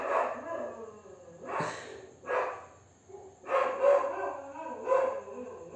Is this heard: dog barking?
yes